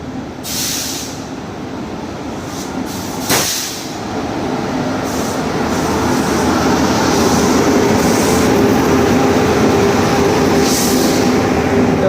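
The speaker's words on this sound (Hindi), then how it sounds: "WAP 7 लोकोमोटिव लगा हुआ है इसके अंदर" Patliputra Express passenger train hauled by a WAP-7 electric locomotive rolls past loud and close, a steady heavy rumble and rushing roar that builds and holds, with a brief clank early on.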